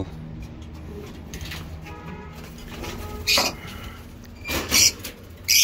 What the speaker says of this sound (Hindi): ये कबूतरों का केज है, इसमें हम कबूतर रखते हैं